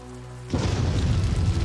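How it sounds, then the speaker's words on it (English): A sudden deep thunder boom breaks in the horror video game Terror at Oakheart and gives way to a loud, rumbling roar of storm noise that carries on to the end. "The lightning strike?"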